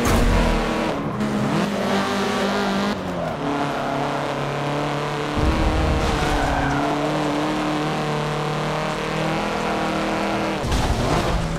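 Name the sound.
race car engine in Forza Motorsport 7 video game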